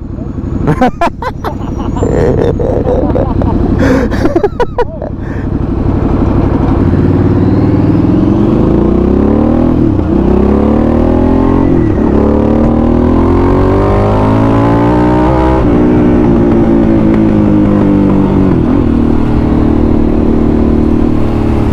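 Harley-Davidson Sportster S motorcycle riding with a loud, steady engine drone and rising, falling pitch sweeps as the rider accelerates and shifts gears, preceded by a few sharp knocks at the start.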